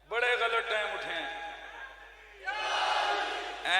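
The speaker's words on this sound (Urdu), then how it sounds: "نعرے حیدری تو اٹھے ہیں" A large crowd at a Mehfil-e-Milad religious gathering roars the Naara-e-Haidari slogan in two loud, sustained chanted bursts, voices massed together with a short dip between them.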